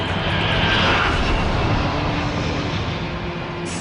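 A fixed-wing airplane engine roaring steadily near Los Angeles International Airport, a loud continuous drone close by lasting several seconds with no voices.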